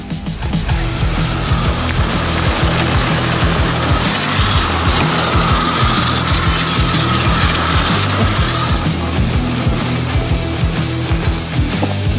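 A Ninebot GoKart Pro electric go-kart with big front wheels drives and drifts in circles, giving a steady whirring motor drone with scuffing tire noise, close and continuous for the whole stretch without a break.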